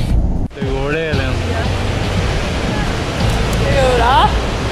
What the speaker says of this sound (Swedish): så åkte vi till nästa vattenfall, som är Godafoss vattenfall